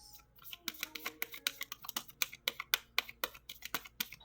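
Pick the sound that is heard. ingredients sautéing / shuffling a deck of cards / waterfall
shuffling a deck of cards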